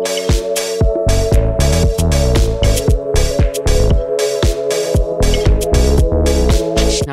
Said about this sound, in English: Just got this little ARP with the Prophet in here, doing slightly different inversions